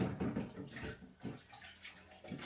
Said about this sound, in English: Y'all see I'm washing my hands. I told y'all I'm going to have a sink full of water.